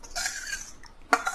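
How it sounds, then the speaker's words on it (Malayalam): Tamarind-water curry paste is poured into a clay pot for a fish curry, giving a brief liquid pour and a soft splash followed by a short clink of a utensil against the pot, close and quiet. "പുളിവെള്ളം ഒഴിച്ച് കലക്കി വെച്ചിരിക്കുന്ന ഈ അരപ്പ് നമ്മൾ ഈ ചട്ടിയിലേക്ക് ഒഴിച്ചു കൊടുക്കുകയാണ്"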